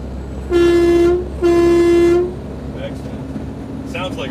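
Two loud, sustained blasts from the standard truck horn on a 2006 Freightliner Sport Chassis pickup, each about a second long with a short gap between, deep and boat-like, followed by quieter background sounds and faint voices.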